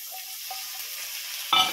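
Broccoli tipped into a pan where capsicum and onion are frying, a steady sizzle with a sudden louder burst of crackling at the end as the vegetables hit the hot oil.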